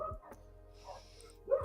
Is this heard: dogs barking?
yes